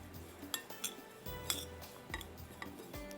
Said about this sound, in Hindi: यहाँ पर इसको पहले मिक्स कर लेते हैं